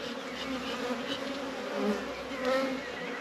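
Honey bees buzz steadily inside a nucleus hive left lightly populated after a split, a close continuous drone that swells briefly in places, with no talking.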